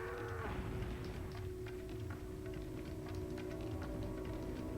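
A cow in the Resident Evil 4 game gives one low, drawn-out moo near the start, followed by faint ticking and clicking over a quiet rumbling background.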